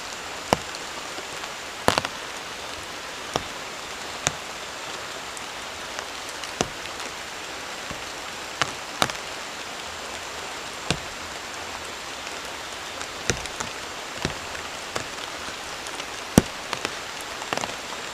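Heavy rain falls steadily at a forest campsite at night, a dense, even hiss of drops on surfaces with occasional sharper close drips and taps standing out, and no voices.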